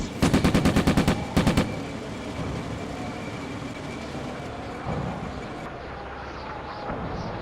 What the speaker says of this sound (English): Yeah, the background sound, the artillery strike is imminent.